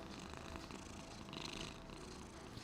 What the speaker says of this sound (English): He purred.